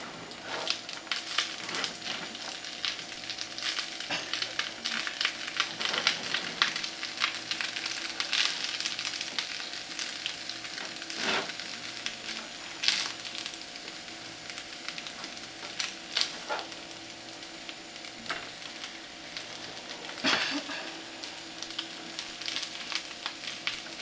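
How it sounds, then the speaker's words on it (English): Shrimp fried rice sizzles and crackles steadily in a hot skillet, with frequent scraping and stirring strokes as the rice is turned, close and continuous without talk. "Make sure the rice or any of the food does not stick to the skillet, so I turn it."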